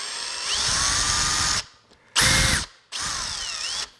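A power drill unscrews a screw from a car tire in three bursts, each a loud whirring whine that rises and falls, split by short silent gaps. No one talks.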